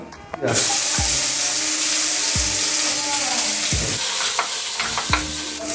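Crushed cardamom, dried red chillies and a bay leaf sizzle loudly in hot oil while being stirred, with a steady frying hiss and several scraping strokes of a spoon against the pan.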